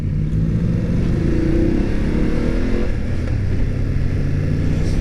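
A 2019 BMW F850GS motorcycle rides along at steady cruising speed, its engine giving a loud, continuous low rumble with slight rises in revs, heard close and without talk over it.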